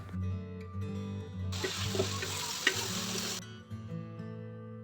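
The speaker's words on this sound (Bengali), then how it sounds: "এবারে ভালো করে মশলাটা ভেজে নেব যাতে মশলা কাঁচা গন্ধটা না থাকে" Spice paste mixed with whisked yogurt sizzles and spits in hot oil while being stirred, a loud steady fry close by with a burst of brighter crackle in the middle, then settling back to a gentler sizzle.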